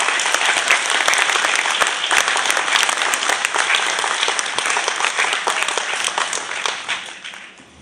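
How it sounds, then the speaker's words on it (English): Sustained applause from a high school spring concert audience, dense steady clapping that holds strong and then begins to fade toward the end. "Please give them a round of applause."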